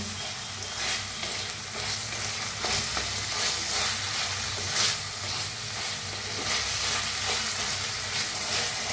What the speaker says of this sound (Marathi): ह्याला बी टमाटोला बी मिक्स करून कांद्यासंग भाजून घेऊया।